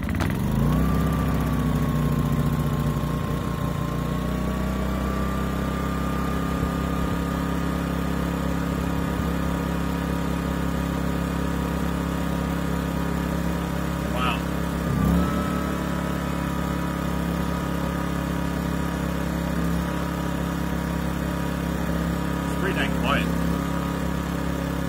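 A Pulsar 2300W portable generator, set on choke, starts up and settles into a steady, loud close-up drone running at about 4100 RPM rather than economy mode, with a couple of brief clunks partway through and no talking.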